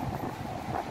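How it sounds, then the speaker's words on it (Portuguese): Wind blows outdoors at Campo Grande in Lisbon on an early evening, a steady, muffled rush of noise for about a second with no voices. "Tá ventando um pouquinho"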